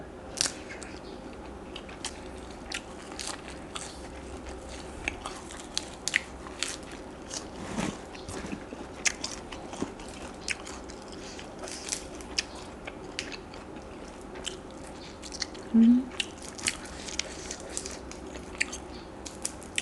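Grilled shrimp being eaten, with crisp, crunchy bites and chewing close up, scattered clicks and crunches over a quiet background.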